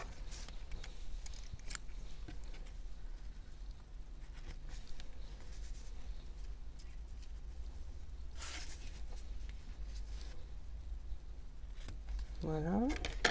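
Scissors snip while a card is being finished with a ribbon bow, producing faint, close scattered cuts and small handling rustles over a low background hum, with a brief voiced sound near the end.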